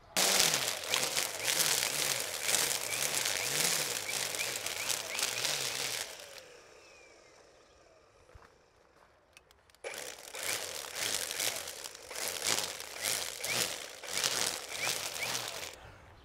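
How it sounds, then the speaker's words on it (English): A string trimmer whirs and crackles as it slices through tender buckwheat, loud cutting bursts interrupted by a quieter pause before resuming. "you see a weed whacker just slices right through it"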